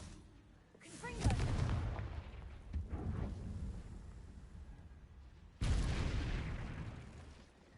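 Confringo blasting spell cast in a Harry Potter video game, two loud booming blasts with rumbling, crackling tails, the second erupting suddenly and lingering to the end.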